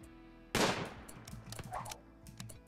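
Gunfire in the video game RimWorld: a sudden loud blast followed by a rapid, irregular string of sharp shots and clatter over a steady background tone.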